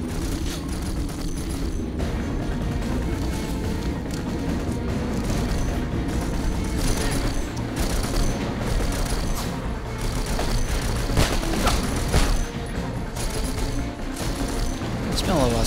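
Gunshots in the video game Conflict: Denied Ops, scattered sharp cracks over a dense, steady wash of battle noise and music, with voices talking throughout.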